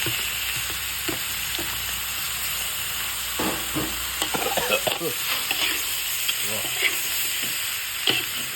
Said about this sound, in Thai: กำลังผัดเผ็ดปลาไหล